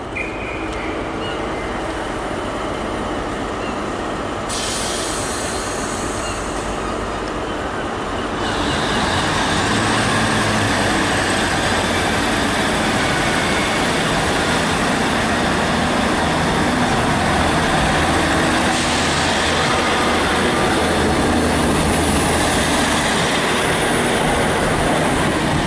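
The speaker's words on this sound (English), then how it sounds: "here comes my train that I'm going to be taking, which is a cross-country HST" A Cross Country HST diesel train departs a station with a loud, continuous engine rumble and rolling noise that builds after a few seconds and holds steady, with no talk over it.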